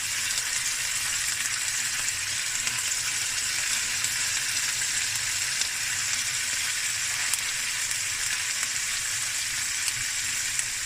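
Garlic, ginger and green chilies fry in a hot pan for clam and crab stir-fried rice with a dense, steady crackling sizzle that holds constant and fairly loud throughout, without any voices.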